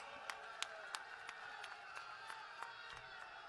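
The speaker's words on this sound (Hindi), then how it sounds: "आप ताली बजाओ" Faint, distant clapping from an audience at a political public meeting in Amritsar, Punjab: a steady run of sharp, evenly spaced claps over a low crowd murmur.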